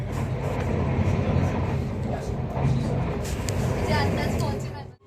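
A loud, steady rumble and whoosh of a metro train in a station, with people talking underneath and the noise cutting off abruptly at the end.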